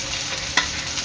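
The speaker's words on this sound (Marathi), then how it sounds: "त्यामध्ये टाकते मी कांदा" Onion dropped into a pan of frying ginger and garlic for prawn chilli, a steady close sizzle with one sharp scrape or clatter in the middle, no voice.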